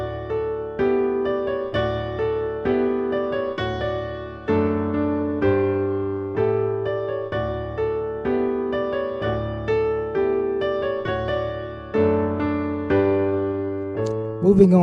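Piano plays a steady melody over sustained chords, each chord struck and left to ring before the next, at moderate loudness with no voice.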